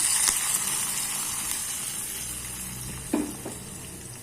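Hot tempering poured into a boiling okra tamarind curry, vendakkai kara kuzhambu, giving a steady close sizzle and hiss with a brief splashy burst near the end, no voices.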